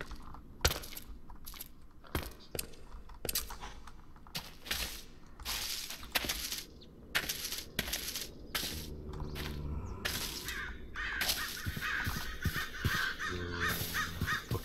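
A crow-like bird in the video game RLCraft caws loudly in repeated harsh calls. Clicks and mechanical rattles come in between, and a low game hum sits underneath.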